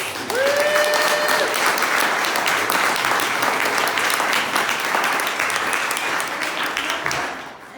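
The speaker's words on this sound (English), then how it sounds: "let's give a big round of applause to everybody who pitched" A room full of people gives a big round of applause to student business pitchers at a university event, dense steady clapping that holds for several seconds before tapering off.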